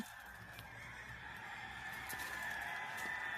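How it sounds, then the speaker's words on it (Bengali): Chickens cluck and squawk at a poultry farm in Kilia near Jeddah, Saudi Arabia, on a morning, a steady dense chorus of birds held close and fairly loud over a constant background hum. "এখানে অনেক সুন্দর মুরগির খামার আছে, মুরগিদের চেঁচামেচি শোনা যাচ্ছে।"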